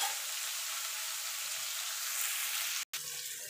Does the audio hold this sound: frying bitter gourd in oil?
yes